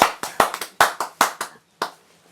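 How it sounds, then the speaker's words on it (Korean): A few people clap their hands in a loose, uneven rhythm, about a dozen sharp close claps in quick bursts with short pauses between them, ending with a single clap after a brief gap. "진짜 박수 좀 치소."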